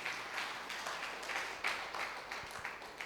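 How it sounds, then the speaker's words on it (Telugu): A church congregation clapping together, a steady wash of many hands in a fairly even rhythm, moderately loud and sustained without pause. "గట్టిగా చప్పట్లు కొట్టాలా."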